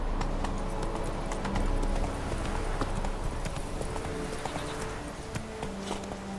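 Roach, a horse in the video game The Witcher 3, gallops with steady, loud hoofbeats close by. The rhythmic clip-clop runs throughout and carries a faint snort over it.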